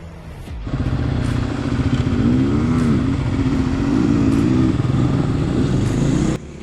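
A Kawasaki KLX dual sport motorcycle riding single track trail in New Mexico, its engine droning loud and close with steady throttle, rising and falling slightly as it climbs.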